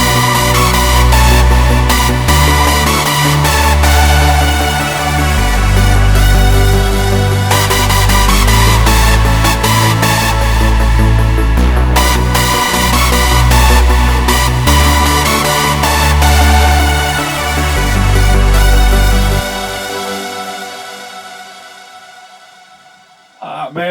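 A loud, dense synth demo built from Sylenth1 presets from an Xmas sound bank, with a pounding low bassline and layered leads throughout that thin out and fade near the end.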